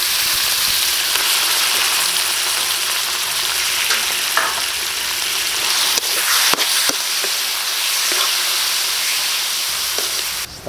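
Meat frying in a pan over ginger, onion and garlic for beef sinigang na pares, a steady loud sizzle with clatters of stirring, no talking.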